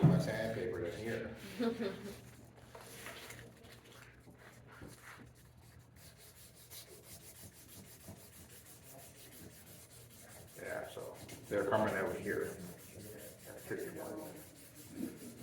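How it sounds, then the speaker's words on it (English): Sandpaper rubbing on a wooden potato masher at higher grits, soft scratchy strokes that come in bursts near the start and again toward the end, with a person talking through much of it. "Sometimes when you're sanding, it's not a bad idea, especially when you get to the higher grits, to wipe down your work"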